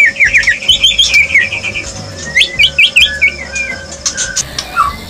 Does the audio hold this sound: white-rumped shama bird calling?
yes